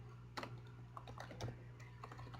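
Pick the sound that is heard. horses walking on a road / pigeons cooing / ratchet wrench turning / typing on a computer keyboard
typing on a computer keyboard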